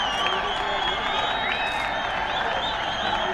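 A large cricket crowd roars and applauds steadily after a wicket falls in a Nepal match, a continuous wash of cheering with a commentator's voice over it.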